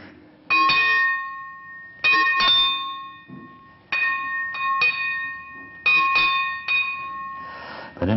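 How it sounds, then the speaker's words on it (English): Church bells peal in loud, repeated clusters of strikes with long ringing tones that hang between them, heard from a window near St Paul's. "I'm half tempted to hang out the window and add my penny's worth to the bells."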